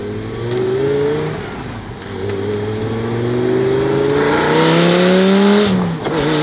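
Lamborghini Gallardo Spyder accelerating hard at a hillclimb race, the engine whining upward through the revs, cutting abruptly on gear changes and climbing again, loud and close throughout.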